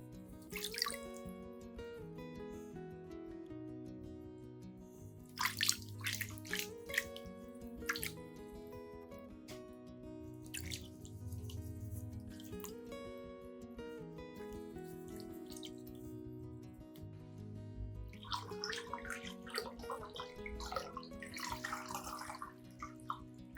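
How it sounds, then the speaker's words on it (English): Clean tap water runs and splashes steadily while orchid roots are rinsed, with intermittent louder gushes and drips over soft background music. "by thoroughly rinsing with clean water, the plant becomes more refreshed"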